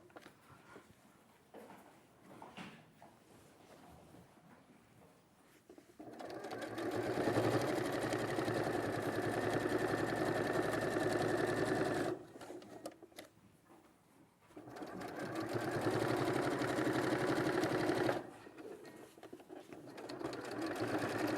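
An Elna sewing machine stitches in two sustained runs with a pause between them, loud and close, with quieter handling sounds before the first run.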